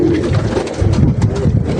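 Racing pigeons, four to five years old, coo in a club loft at Lökbatan, Baku, with low, throaty overlapping calls that are close and continuous and carry no speech.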